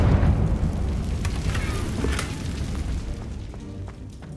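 Confringo fire spell exploding in Hogwarts Legacy, a loud close burst of booming blast at the start that rolls on into a crackling, rumbling roar and slowly fades away.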